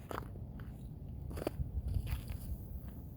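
A hissing, crackling fizz with sharp pops and sputters, close and continuous, as a burning Zippo typhoon storm match is pushed into water.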